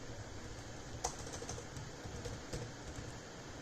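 Quiet computer keyboard typing, a few soft key clicks scattered over a low steady background hum.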